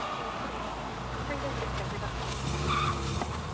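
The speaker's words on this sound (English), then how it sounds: "A little bit of wheel spin." A car spins its wheels and skids during a police pursuit, tire noise and engine rumble running as a faint, continuous roar under a busy background.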